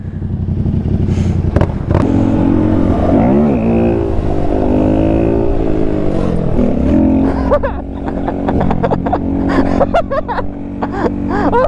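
A Yamaha R1 sport motorcycle with a large hole blown in its exhaust roars loudly as it accelerates, its raspy engine note rising and falling through the revs under voices in the foreground.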